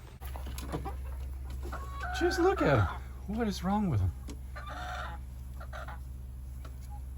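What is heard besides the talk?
chickens clucking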